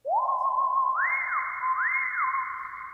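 Whistle solo voice on a Lowrey touch-screen organ: a clear, pure tone holding steady, then gliding up a step and back down twice, each glide smooth and portamento-like, sustained alone without talk.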